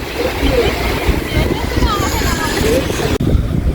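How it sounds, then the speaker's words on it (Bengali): River waves wash steadily against the Belari riverside on a crowded afternoon, a continuous loud churning rush mixed with wind buffeting, broken only by a brief dropout near the end. "এখানে ঢেউটা দেখো, পুরো মনে হচ্ছে যেন একদম সমুদ্রের মতন ঢেউটা দিচ্ছে"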